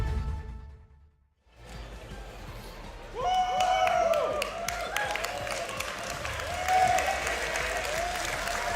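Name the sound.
crowd applauding at a card game semi-final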